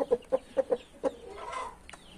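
A hen on a small farm with young chicks clucks in a quick series of short, sharp notes, fairly close, followed by a softer drawn-out cackle, with no talking.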